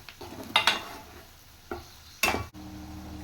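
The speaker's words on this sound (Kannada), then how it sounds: "ಹಾಕಿದ ನಂತರ ಎಲ್ಲವನ್ನು ಈ ರೀತಿ ಚೆನ್ನಾಗಿ ಫ್ರೈ ಮಾಡ್ಕೊಳ್ಳಿ." Spices and chilli powder fry in a pan over low heat with a faint sizzle, broken by several sharp scrapes and clinks of a spoon stirring against the metal.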